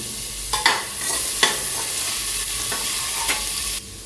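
Chopped green chilli and ginger sauté in hot coconut oil, a loud, steady sizzle broken by several sharp scrapes of stirring, then cutting off abruptly near the end.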